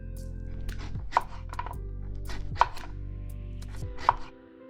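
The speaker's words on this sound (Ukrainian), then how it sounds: "нарізаємо морку." Three sharp knife chops through carrot on a cutting board, evenly spaced about a second and a half apart, close up over a steady low background hum.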